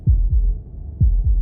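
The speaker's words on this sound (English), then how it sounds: "That was the sound of a heartbeat," Heartbeat in the video game Slay the Princess: two pairs of deep, low thuds in a lub-dub rhythm, loud and close over a quiet low hum, with no talking.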